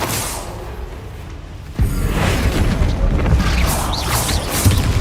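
A Bombarda explosion spell cast in the game Hogwarts Legacy: a quiet lull, then a sudden loud blast that rolls into a sustained rumbling, crackling roar.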